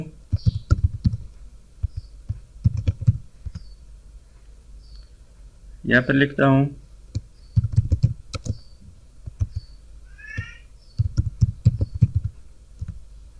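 Someone types into a Microsoft Excel cell on a computer keyboard, sharp clustered key clicks arriving in bursts with short pauses, close and clear, with a brief voiced sound in the middle.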